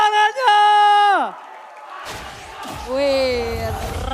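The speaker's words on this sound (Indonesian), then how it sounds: "MPL Arena, mana tepuk tangannya?" Arena crowd at an MPL Indonesia esports match between RRQ and Alter Ego swells into a brief roar of cheering and clapping, squeezed between a caster's drawn-out shout and further excited commentary.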